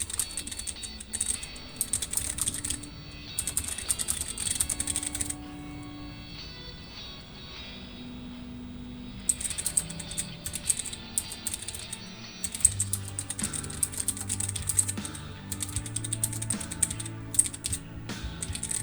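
Rapid bursts of clicky keystrokes on an Ergodox EZ ergonomic mechanical keyboard during a coding session, coming in steady runs separated by brief pauses, close and moderately quiet with a faint tonal background.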